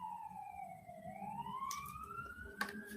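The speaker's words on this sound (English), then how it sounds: "hear that siren?" A siren wails in the distance, its tone falling and then rising again over a low background rumble, with a brief clatter near the end.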